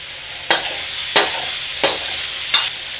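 Beef with carrots stir-frying in a hot pan, a continuous close sizzle broken by four sharp, evenly spaced scrapes of a utensil against the pan.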